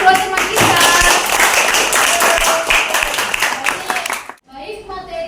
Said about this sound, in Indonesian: Beri tepuk tangan untuk kedua teman kita.